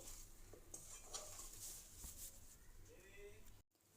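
Chakodi dough is mixed by hand in a bowl, with soft stirring, squelching and scraping against the bowl that end in a short pause and a final knock.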